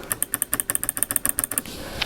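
Rapid series of crisp, light clicks in quick succession from an A4Tech Fstyler FB10CS wireless mouse, close up, then a brief quiet hiss with one last faint click.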